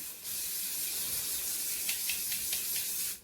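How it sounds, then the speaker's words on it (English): Hairspray hisses from an aerosol can in one long continuous burst, close and steady, with a few faint clicks near the end before it cuts off. "Now you can use hairspray."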